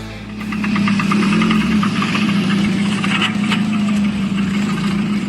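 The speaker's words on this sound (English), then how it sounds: "hear those car sounds?" A car engine runs loudly up close with a steady low hum and a rough, knocking rattle, holding constant throughout.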